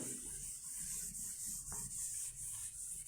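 A board is rubbed with an eraser, giving a soft, steady scrubbing friction, close and quiet, set against a constant high-pitched electrical whine.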